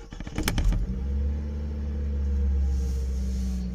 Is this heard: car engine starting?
yes